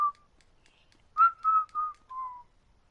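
A character in GTA San Andreas Definitive Edition whistles a short tune: a brief note, a pause, then four quick clear notes, the last drawn out and falling, soft and alone.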